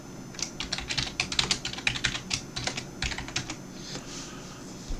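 Fast, uneven typing on a computer keyboard while logging in to a chat app, a close, steady patter of key clicks lasting several seconds before it tapers off.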